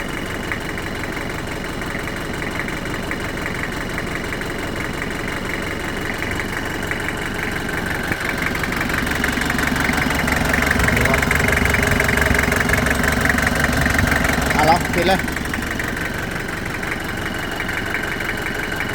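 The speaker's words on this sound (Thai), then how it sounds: "อุ่นเครื่องสักประมาณสัก 10 นาทีก่อนนะครับ" Engine idling for about ten minutes while it warms up, a steady mid-pitched rumble with a slight knock, running continuously at close range and swelling briefly in the middle.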